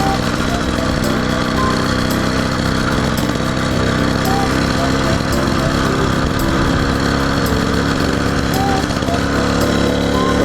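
A purple 80cc motorized bicycle engine runs loud and steady up close, a buzzing two-stroke drone that holds for the full stretch, with voices talking over it.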